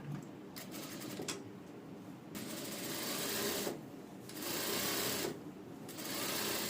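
A sewing machine stitches a fine seam on padded blouse fabric in a few sustained, whirring runs separated by short pauses, close and moderately loud.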